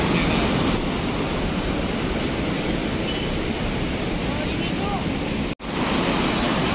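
The Parvati River at Manikaran rushes in a steady, loud broadband roar of flowing water, continuous throughout with a brief dropout near the end.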